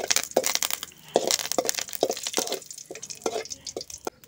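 Curry leaves crackle and sizzle in hot oil in a pan while tempering for an avarai flower egg stir-fry, with a run of sharp pops and spits close up.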